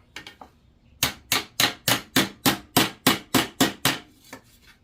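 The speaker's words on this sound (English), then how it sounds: "I'll work that a little bit and I'll pound these dents out." A hammer pounds dents out of the metal of a vintage Schwinn bicycle in about a dozen sharp, evenly spaced close blows, with a few lighter taps at the start and end.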